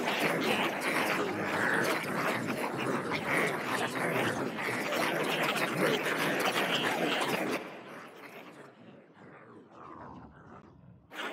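Dark creature sound effects for a trailer, designed in Wwise and Reaper with pitch shifting and reverb: a dense, rumbling, growl-like roar that runs steadily, then thins into quieter, breathy rumbling.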